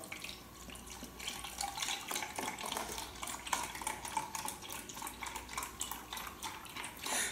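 Chicken broth poured into a pan while making pan-fried noodles with chicken and broccoli, a quiet, continuous watery splashing and trickling with faint kitchen clatter, no talking.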